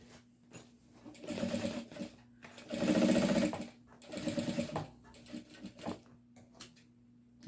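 Sewing machine stitching a curve on a delivery bag with a metal presser foot, running in several close, loud bursts of rapid mechanical whirring separated by short pauses.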